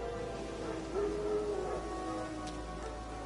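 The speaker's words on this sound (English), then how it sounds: "Wild dogs. Yes. More dangerous than wolves." Wild dogs howl in The Witcher 3 video game, a faint drawn-out wavering howl rising and falling at a distance over a steady background of rain or ambient hiss.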